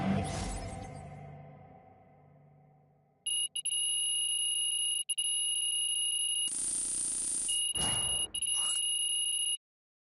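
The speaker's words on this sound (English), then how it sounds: "as the final buzzer sounds" A final buzzer sounds in the NBA 2K26 basketball video game, a long steady electronic tone held for several seconds with brief breaks and a louder burst near the end, following fading crowd noise.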